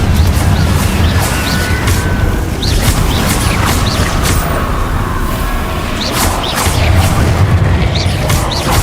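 Confringo fire spell blasts in the game Hogwarts Legacy go off as loud, repeated booming impacts over a continuous roaring rumble, with sharp cracks scattered throughout.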